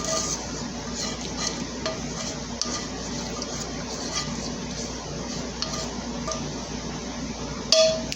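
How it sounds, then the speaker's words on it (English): Food being stirred in a pan during a New York steak dinner preparation, a steady close sizzle with soft scraping and a few light clinks of a utensil, no talking. "I'm just going to go ahead and basically kind of like just stir this up."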